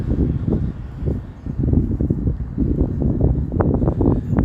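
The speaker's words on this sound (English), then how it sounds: "the wind is picked up" Wind gusting along a downtown Toronto street between new condominium towers, a steady low rushing roar that buffets the microphone in uneven surges, loud and close, with no talk.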